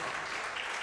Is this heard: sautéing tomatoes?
no